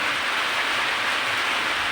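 Monsoon rain falls outdoors in a steady, dense hiss with no distinct drops or voices, constant and fairly loud throughout.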